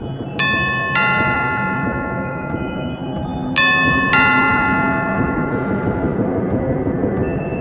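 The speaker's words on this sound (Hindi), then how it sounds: "कानों में डोरबेल की आवाज़" A two-note electronic chime rings twice, each ding-dong clear and bright above a steady rumbling background hum.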